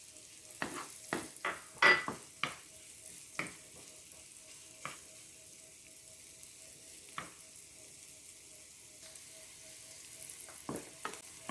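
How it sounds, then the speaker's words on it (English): Vegetables for crab cakes sizzling in a pan, with a quiet frying hiss and a series of sharp clicks and scrapes from stirring, irregularly spaced. "So you just want to saute these until they're nice and soft."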